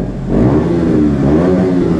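A 2020 KTM Duke 125 motorcycle engine revs loudly and close, the rough exhaust note rising and crackling with pops over two seconds.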